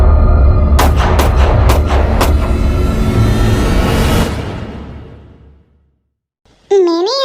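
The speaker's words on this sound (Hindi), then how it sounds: "ऐसा लग रहा था कि किसी ने गोली चलाई है" Several sharp gunshots ring out in quick succession over a loud low rumble, then the noise fades into near silence before a short burst of sound at the end.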